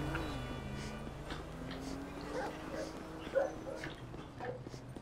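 A dog in the video game GTA V yips, whimpers and barks amid street ambience and a passing car, the calls fairly faint and scattered under ongoing game noise.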